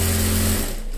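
A sewing machine runs continuously, stitching frock fabric with a steady, fast mechanical whir that eases slightly toward the end, close and loud with no talk.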